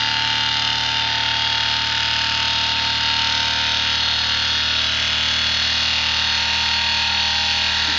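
A brushless DC motor spins steadily at roughly 2,200 RPM, giving a loud, continuous whine with a constant hum underneath, holding evenly from start to end with no voices.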